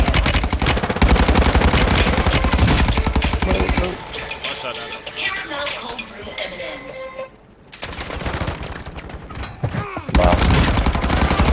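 Dense automatic gunfire in the Warzone battle royale game, loud rapid bursts stretching across most of the stretch with a short quieter lull mid-way, while players talk over the shooting.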